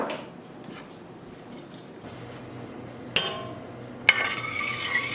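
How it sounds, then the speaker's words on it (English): A spoon stirs vinegar and salt brine in a pot on the stove, a soft scraping swirl with a couple of sharp metallic clinks against the pot's side, close and fairly quiet. "Stirring will help dissolve that salt"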